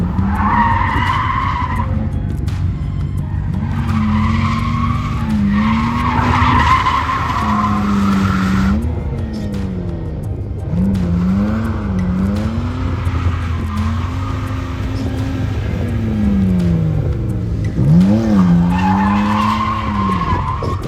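A car engine revs and wails while tires squeal and skid in long, repeated drifting slides, loud and close throughout.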